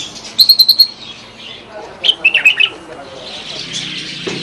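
Nightingales and canaries chirp at the bird bazaar in Kirkuk citadel, with two close bursts of rapid, bright trilled notes over a soft, busy background murmur.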